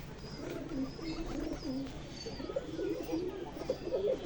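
Pigeons cooing close by, repeated low throaty rolling calls that continue steadily, with faint background noise.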